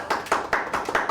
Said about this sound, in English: Applause all around, Richard.